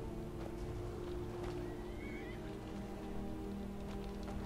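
A horse in the Skyrim video game gives a short whinny over steady rain and low ambient hum, with faint hoof clops, heard at moderate distance and fairly quiet.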